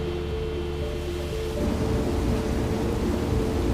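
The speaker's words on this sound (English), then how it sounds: "Okay, Steve, can we get some rain in the northeast quadrant, please?" Artificial rainfall sprayed over a research forest inside the Biosphere enclosure, a steady broadband hiss of falling water that swells louder partway through and keeps going as a dense, continuous wash with no voices.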